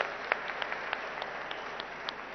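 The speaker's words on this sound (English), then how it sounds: "which I think deserves a huge round of applause to the entire team of Shankara" Audience applause at a hospital inauguration event, a dense, even patter of many hands with a few sharper individual claps standing out, moderately loud and fairly close throughout.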